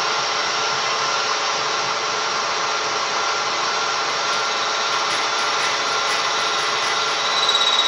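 A valve seat part is deburred during finishing, giving a steady, even high-pitched grinding hiss that runs without a break and stands alone at moderate loudness.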